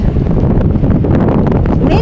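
Strong wind buffets the microphone outdoors during a southern storm warning, a steady loud low roar with gusty rumble throughout and a voice talking over it.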